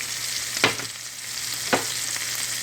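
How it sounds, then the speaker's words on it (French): Garlic and ginger fry in a pan with chicken gizzards, a steady close sizzle broken by two short stirring scrapes, no voices. "Et puis là, je vais rajouter mon ail et gingembre."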